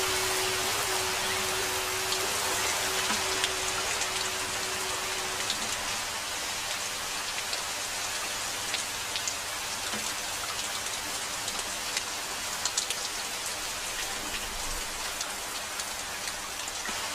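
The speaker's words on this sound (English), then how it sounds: "rain has come, even before we have finished sowing the seeds!" Steady, heavy rain pouring down outdoors, a dense continuous patter with no voices over it.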